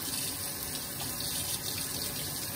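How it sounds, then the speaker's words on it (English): Tap water runs steadily into a kitchen sink while a spoon is rinsed after tasting ginger barbecue sauce, a continuous splashing hiss, close and fairly quiet, with no talking. "That is the water. I'm rinsing the spoon off."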